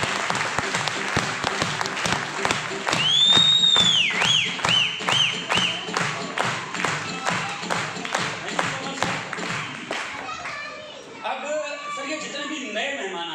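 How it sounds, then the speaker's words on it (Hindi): An audience applauds loudly and steadily to welcome new guests at a gathering, with dense continuous clapping that thins out near the end while voices are heard. "हमारे इन नए मेहमानों के लिए आरसीएम वाली जोरदार तालियों से इनका वेलकम करेंगे"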